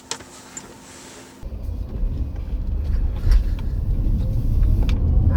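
Car driving with a mobile FM CB radio fitted (Rotel RVC220) in leafy countryside, a quiet idle giving way to a steady, fairly loud road and engine rumble as the car pulls away, with faint clicks and no talk.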